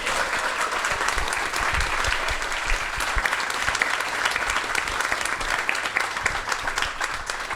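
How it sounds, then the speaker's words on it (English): A live podcast audience at a Chelsea fan show claps for a guest, a loud, dense, continuous round of applause lasting several seconds without talk. "Let's give her a round of applause."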